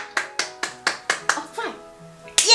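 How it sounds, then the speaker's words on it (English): A toddler claps hands during a colour-learning session, about seven distinct, slightly uneven claps in a row, close and clear, followed by a short vocal sound and a final sharper burst. "Give yourself a hand clap"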